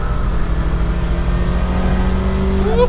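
A turbocharged engine revs in a high-end car with billet metal fittings, a loud, steady mechanical roar with a rising whistle swelling near the end.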